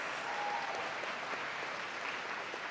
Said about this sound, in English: Let's give all of the panelists a round of applause.